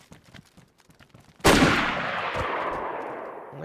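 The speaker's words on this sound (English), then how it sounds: "I can hear a lot of explosions going off from a distance" In DayZ, a single sharp blast erupts after quiet, scattered background noise, its rumbling tail slowly decaying over the next couple of seconds.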